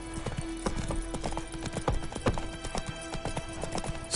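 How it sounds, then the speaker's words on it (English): Brisk clip-clop of a horse's hooves in The Witcher 3: Wild Hunt, a quick, steady run of hoofbeats close by with a faint snort, as the rider reins the horse in. "Whoa there, Roach."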